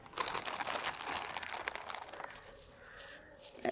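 Clay leaves for a clay rose being cut by hand, a close run of soft crinkling, crunching snips that thin out toward the end.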